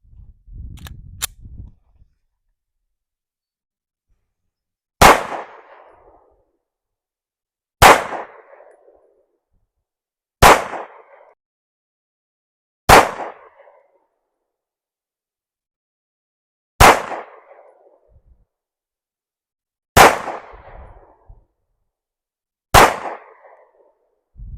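An Anderson Kiger 9C Pro pistol fires single rounds while its sight is zeroed at a range, eight sharp loud cracks spaced a few seconds apart with brief decays and silence between.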